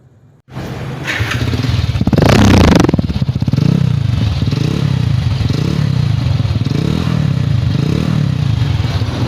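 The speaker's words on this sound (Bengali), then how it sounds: "বাইকটা সাউন্ড কোয়ালিটি দেখতে পারলেন।" A Hero Splendor i3s motorcycle engine, a 2022-23 model with 10,000 km, starts after a brief silence, revs sharply once, then settles into a steady, loud idle that runs on evenly.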